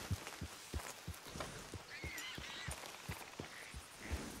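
Steady, rhythmic hoofbeats of a horse ridden through a small forest in Red Dead Redemption 2, soft regular thuds under quiet ambient woodland sound.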